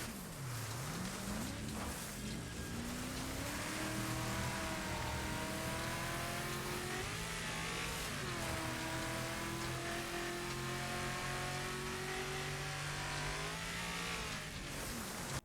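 A race car engine in the Wreckfest video game roars continuously, its pitch sweeping up through the gears and dropping on downshifts before a corner on an uphill run, loud and sustained with faint tire noise.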